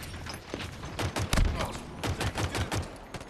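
Sidearm gunfire in a shooter video game: a string of sharp, rapid shots in quick bursts, fairly close and loud, with mechanical clatter between them.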